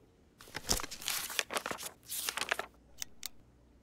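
Rustling and crinkling of paper being handled, with a few soft taps and scrapes, brief bursts close by in a quiet room.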